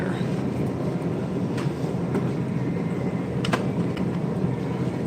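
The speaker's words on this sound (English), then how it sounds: "Pardon the noise, I have the forge running to warm it up a little bit in here." A forge runs to warm a cold workshop, making a steady, dense roar that holds evenly throughout, with a few faint clicks over it and no talking.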